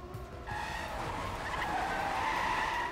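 A car in a racing video game drifts with a sustained tire skid, a steady squealing hiss over a constant engine drone that grows louder after a brief quieter start.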